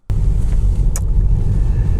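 A Tesla electric car driving out of a car park on a rough, potholed surface, with steady low road and cabin rumble throughout and a brief higher tick near the middle, with no talking.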